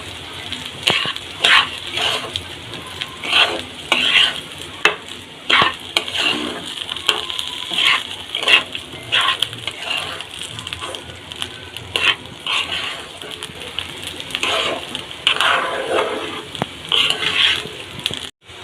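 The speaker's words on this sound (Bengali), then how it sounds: "পোলাওতে দিয়ে দিচ্ছি একটু পেঁয়াজ, রসুন, আদা পেস্ট দিয়ে আবার একটু নাড়াচাড়া করে নিচ্ছি" Onion, garlic and ginger paste being stirred into pilau in a pot makes a continuous sizzle under repeated scraping and clinking of a spoon against the pan, loud and close.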